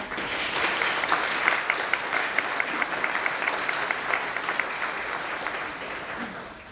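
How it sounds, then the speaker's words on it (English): An audience at a nursing pinning ceremony applauds steadily for several seconds, many hands clapping in a sustained, even roar with individual sharp claps standing out, fading slightly at the end. "So I'd like to give you all a round of applause."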